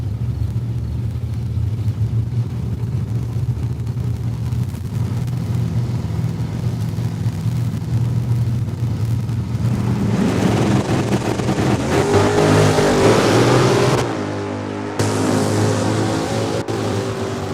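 Drag race cars, a Camaro and a Dodge Challenger, at Saskatchewan International Raceway: a low engine rumble builds into a loud roaring run before cutting off abruptly near the end, then a softer idle.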